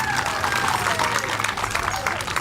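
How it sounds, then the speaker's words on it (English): A crowd applauds at a mural dedication ceremony in Monona, steady dense clapping mixed with murmuring voices and some cheering throughout. "How about a round of applause for these guys?"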